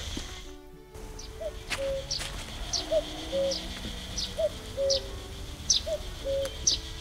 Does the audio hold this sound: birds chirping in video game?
yes